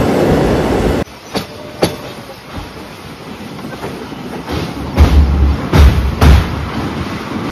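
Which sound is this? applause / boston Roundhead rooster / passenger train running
passenger train running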